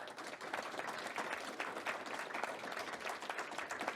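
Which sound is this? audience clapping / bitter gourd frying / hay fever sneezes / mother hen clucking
audience clapping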